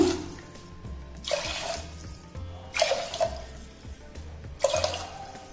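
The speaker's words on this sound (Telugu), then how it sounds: "ఇప్పుడు వాటర్ వేసుకుందాము." Water gets poured in three separate splashing bursts onto washed moong dal and rice in a vessel, each pour a close gushing splash followed by quieter gaps.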